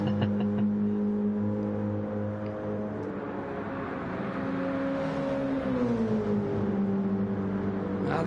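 A racing car engine in a Suzuka 4 Hours video game race drones loudly at high revs, holding a steady pitch before a drop and shift mid-clip, with no speech.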